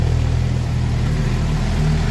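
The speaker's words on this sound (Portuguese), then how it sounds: "O escape também aqui com o som" Steady low rumbling exhaust of a Suzuki GSX-R750 motorcycle idling close by, a continuous throaty drone with no speech.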